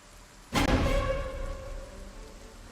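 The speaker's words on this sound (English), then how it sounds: "I thought the rain was going to let up, but it's picking up again." Rain falls in the survival video game Project Zomboid as a steady soft hiss, broken by a sudden loud broadband crash that slowly fades back into the downpour.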